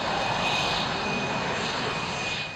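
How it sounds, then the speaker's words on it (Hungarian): Gripen fighter jets land one after another on the runway at Kecskemét air base, a loud sustained jet engine roar with a steady high whine that fades slightly at the end. "Egymás után szállnak le a Gripenek a kecskeméti repülőbázis kifutójára."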